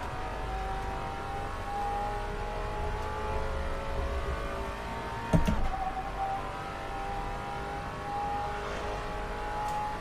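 Maserati Alfieri engine driven on track at Monza in Assetto Corsa, a steady sustained engine drone with a faint whine that holds at constant speed throughout, with a brief bump partway through.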